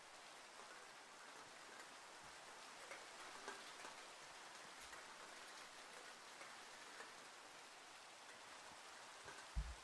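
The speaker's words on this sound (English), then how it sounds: "Got the ultra realistic rain." Steady rain in Minecraft falls continuously for about ten seconds, a dense even patter with a few louder drop ticks, heard alone without voices.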